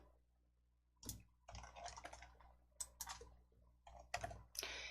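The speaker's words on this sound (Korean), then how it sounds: "키보드에 영문 L 눌러주세요." Computer keyboard keys pressed in a series of sharp clicks and short bursts, quiet and close, while entering a shortcut in a Korean word-processing program, with no talking.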